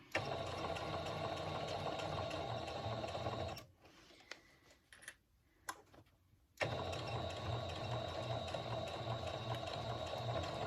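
A sewing machine stitches the side panel seams of a fabric tote bag in a close, steady mechanical whir. It stops for a few seconds of quiet shuffling, then resumes running.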